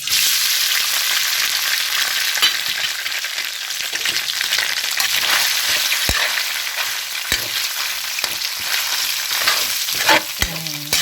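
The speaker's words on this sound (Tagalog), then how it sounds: "So, prito lang muna natin." Steady loud sizzling of flaked smoked fish frying in oil, with occasional scrapes and taps of a utensil stirring the pan.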